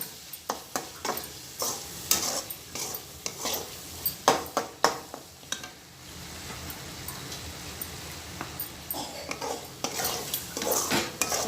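A spoon stirs idli manchurian gravy in a pan, making repeated clinks and scrapes against the metal over a soft simmering sizzle, close and steady throughout.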